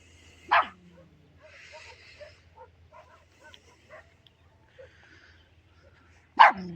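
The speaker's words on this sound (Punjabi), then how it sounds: "ਇਧਰ ਬਦਮਾਸ਼ ਕੁੱਤੇ ਭੌਂਕਦੇ" Two sharp, loud dog barks, one near the start and one at the end, with faint yips and sounds in the quiet between.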